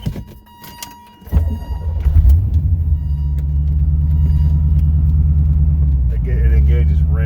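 A C4 Corvette engine cranks and catches, then settles into a steady, loud low rumble with a faint higher whine near the end.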